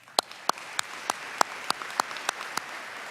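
Audience applause at an academic awards ceremony, heard as a sparse series of evenly spaced, fairly faint hand claps with no one speaking.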